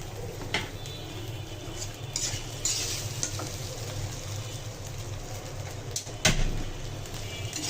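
Green peas frying in oil in a pan while being stirred, with a steady sizzle under occasional scraping and clinking of a utensil against the pan, close and moderately loud.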